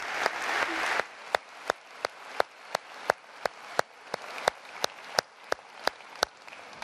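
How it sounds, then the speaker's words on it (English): Audience at an SAP TechEd keynote in Barcelona applauds for Bella Ray: dense clapping that starts full and then thins, leaving a few separate loud claps spaced across the rest of the clip. "Let's give Bella another round of applause."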